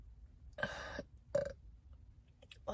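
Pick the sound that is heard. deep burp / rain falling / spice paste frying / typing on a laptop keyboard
deep burp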